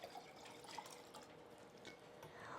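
Water poured from a cup into a jar to dilute wine for a homemade vinegar, a low, steady liquid trickle with faint drips, close by and fairly quiet, ending in a brief louder splash.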